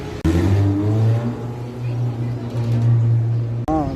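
A C7 Corvette sports car engine sounds at a Gumball 3000 street gathering, producing a loud, steady low drone with slight swells in pitch. It runs for several seconds before cutting off abruptly, with possible faint voices in the background.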